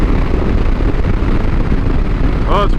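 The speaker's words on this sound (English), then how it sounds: "Well, it's windy, so we're getting a good test in the wind." Loud, continuous low-frequency wind buffeting a microphone while riding a BMW motorcycle, rumbling steadily, with a brief rising tone near the end.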